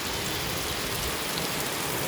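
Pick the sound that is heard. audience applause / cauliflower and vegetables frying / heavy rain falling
heavy rain falling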